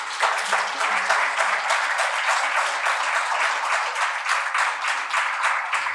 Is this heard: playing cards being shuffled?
no